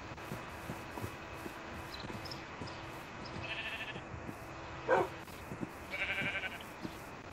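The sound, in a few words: sheep bleating in a video game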